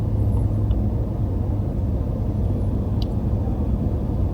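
BMW M5 driving through busy Gosforth High Street in Newcastle Upon Tyne on a Saturday afternoon, a steady low interior road rumble and engine drone throughout, with no talking.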